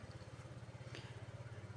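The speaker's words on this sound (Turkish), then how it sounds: "bir dakika dışarıdan bir motor sesi" A motor engine runs somewhere outside, a faint steady low pulsing drone that stays constant throughout, heard from indoors.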